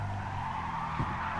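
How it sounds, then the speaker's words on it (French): A car in Gran Turismo Sport, from a Beetle and Samba bus racing event, slides in a brief tire-scrubbing skid over a steady engine drone, short and fairly quiet. "Petit dérapage là."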